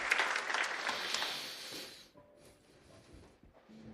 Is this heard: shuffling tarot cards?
no